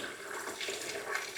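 Water rushes steadily into a basin as laundry with fabric softener is rinsed by hand inside a motorhome, a close, even splashing hiss with no speech.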